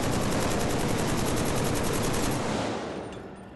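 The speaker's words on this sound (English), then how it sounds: "Let's begin with some full auto shooting." Sustained full-auto rifle fire in the Killzone 3 multiplayer shooter, a dense continuous rattle of rapid shots that fades off near the end, with no voices.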